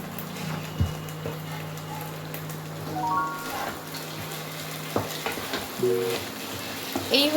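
Sabudana (sago) pulao sizzles and fries steadily in a pan with a spoonful of ghee, a continuous close crackle with occasional stirring scrapes and clinks, no talking.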